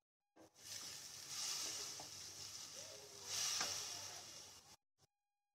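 Onion gojju, Iyengar style, bubbles in a pan with sambar powder, chili powder and jaggery, giving a steady close sizzle with a couple of louder hissing swells before it abruptly stops.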